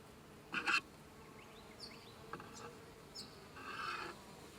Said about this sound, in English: there's only honeybees on this species of eucalypt